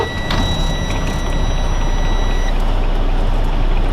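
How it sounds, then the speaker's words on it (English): A Class A truck's engine runs with a loud, close, steady diesel rumble ahead of a brake test, while a high electronic tone sounds over it for the first two and a half seconds and then stops. "Now we're going to start the vehicle and do our brake test."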